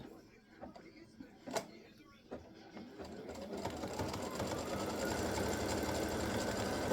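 An embroidery machine stitches the second color stop of an in-the-hoop triple-stand Boo display, a steady fast mechanical rattle that builds from scattered clicks into continuous close running.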